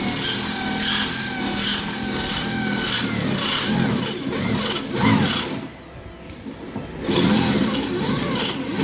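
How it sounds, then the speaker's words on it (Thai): Power drill boring bolt holes in a car body-paint workshop, with grinding, rasping bursts that come and go over several seconds, close and fairly loud, with a brief lull midway and background voices. "ตอนนี้ช่างยุทธก็เจาะ เพื่อที่จะร้อยน็อตไว้ครับ"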